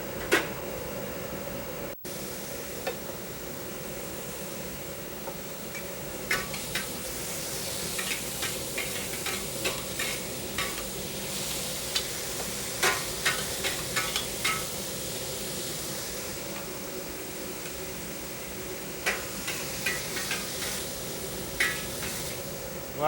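Chicken and beef chow mein stir-fried over a high flame in a restaurant kitchen: a steady broadband sizzle and hiss with scattered clatter and scraping bursts, close and continuous throughout.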